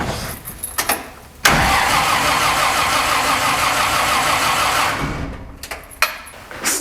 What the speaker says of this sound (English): let's give it another crank.